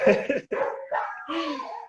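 Dogs bark excitedly at a celebration in Ponte Alta Norte, Gama, a handful of loud, close yips and barks that break off, then resume as higher whining cries.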